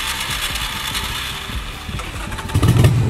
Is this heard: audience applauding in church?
no